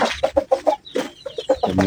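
Chickens cluck close by in a rapid run of short, choppy calls, about a dozen quick bursts with no talk.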